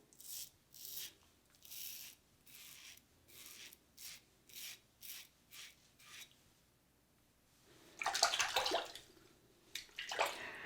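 Shaving with a RazoRock Lupo 58 safety razor fitted with a Derby Extra blade: a run of short, rhythmic scraping strokes close to the mic, a quiet pause, then louder, rougher rasping strokes.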